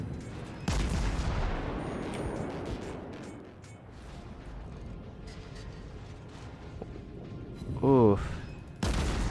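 Heavy naval gun salvos from World of Warships boom in broad bursts at the start and end, with a whining mechanical sweep and game clutter in between, while a player talks over the action.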